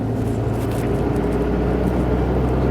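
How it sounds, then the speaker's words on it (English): Steady, loud engine drone with a constant low rumble and an audible turbo, a car running continuously without any talking. "I can hear the turbo in this car now."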